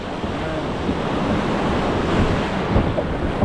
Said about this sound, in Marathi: बघा मित्रांनो लाटा किती भयानक येतात